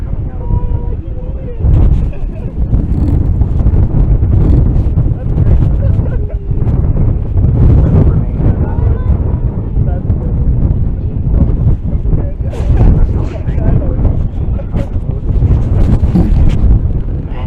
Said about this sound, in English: It is quite windy indeed.